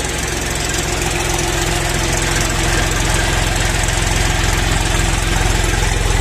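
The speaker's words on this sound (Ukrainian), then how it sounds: "як дуже класно звучить трактор" A mini tractor's diesel engine idles loudly up close, a rapid, even knocking chug with strong low-end vibration holding steady throughout without any voices.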